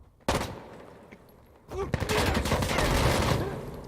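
Video game gunfire during a competitive team match, with a single sharp shot, then a burst of rapid overlapping shots that keeps going under faint commentary.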